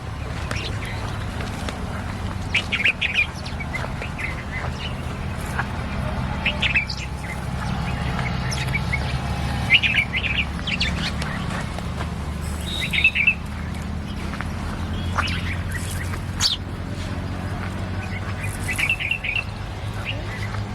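Birds gather at feeding time in a Gujarat village, scattered bright chirps and calls popping up near and far over a low background hum, with quiet talking in places.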